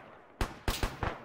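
Four sharp gunshots crack out in Arma, the first alone and the next three in a quick uneven burst, each loud and close with a short ringing tail over a quiet background.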